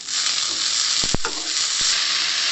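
Mint leaves frying in a pan for vegetable mint pulao, a steady close hiss with a couple of sharp spoon taps and scrapes near the middle.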